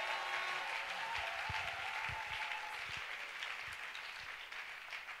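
A church congregation applauds and cheers loudly and steadily throughout, a dense wash of clapping with a few faint voices mixed in.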